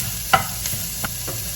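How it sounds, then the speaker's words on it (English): Vegan ground turkey substitute sizzles in a frying pan under a steady soft crackle, with a few sharp scrapes and taps of a utensil stirring it, close by and with no voices. "It is definitely browning up really, really nice."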